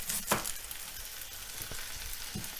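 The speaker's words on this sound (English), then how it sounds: "We turn these guys, make sure we get a good sear everywhere" Beef short ribs searing in a hot pan give a steady broadband sizzle, with a few louder crackling bursts near the start and scattered soft knocks as the pieces are turned.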